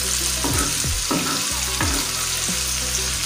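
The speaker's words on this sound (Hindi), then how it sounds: "इसको फ्राई कर लेते हैं और साथ ही पुदीना और हरी मिर्चें शामिल कर देते हैं।" Liver with mint and green chilies frying in a hot pan, a loud steady sizzle broken by several scraping stir strokes, close up and with no one speaking.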